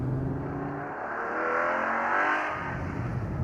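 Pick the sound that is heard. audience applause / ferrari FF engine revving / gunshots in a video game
ferrari FF engine revving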